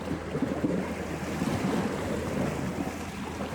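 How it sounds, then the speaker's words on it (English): Loud ocean surf crashes and rolls continuously, a dense, steady roar of breaking waves with wind buffeting the microphone, no voices present. "These waves are loud."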